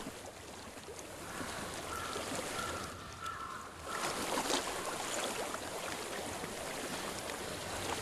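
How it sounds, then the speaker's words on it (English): Water flows steadily in the video game Hellblade: Senua's Sacrifice, a broad continuous rushing wash that swells slightly partway through, with no voices over it. "I hear water."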